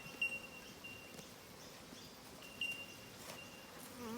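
Honey bees buzzing around an opened beehive as the super is lifted off a hive for inspection, a soft continuous drone with faint outdoor rustle and no talking.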